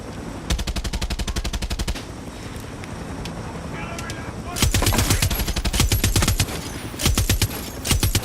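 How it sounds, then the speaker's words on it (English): An automatic gun with kicking recoil in Far Cry 6 fires rapid bursts of shots, first a long rattling string, then a pause and a louder, denser volley near the end, with engine drone behind. "Some kicking recoil on this gun though."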